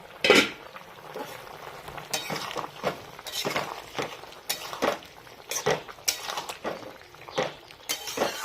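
A metal lid comes off a cooking pot while masoor dal fritters and a vegetable curry are being made at home, giving a series of sharp, close clinks and clatters over a faint kitchen background, with no talking.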